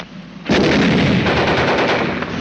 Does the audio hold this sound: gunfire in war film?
yes